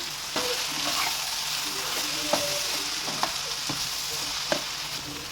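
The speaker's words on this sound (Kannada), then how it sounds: "ಈಗ ಸೊಪ್ಪು ಹಾಕ್ತಾಯಿದ್ದೀನಿ. ನೋಡಿ, ಈಗೆಲ್ಲ ಮಿಕ್ಸ್ ಮಾಡ್ಕೊಳ್ಳೋಣ" Greens sizzle steadily in a hot pan with onion while a spoon stirs them, with a few sharp scrapes and clinks against the metal.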